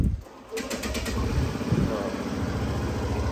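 A Suzuki Burgman Street 125 motor scooter engine starts and settles into a steady, close idle, its low putter running evenly to the end.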